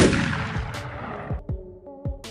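Cannon salute: several sharp booming blasts fire in quick succession, each with a short decaying rumble, loud and close with no voices.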